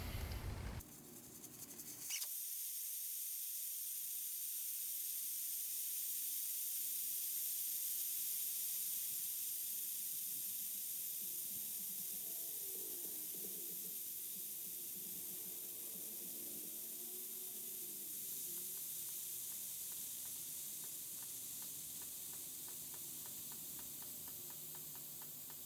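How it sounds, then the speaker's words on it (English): Air rushing out of a large tire through an open valve stem with the core pulled, a steady loud hiss that follows a sharp burst and holds with little change until the tire goes flat. "So we're gonna pull the valve stem and get this tire to 0 psi."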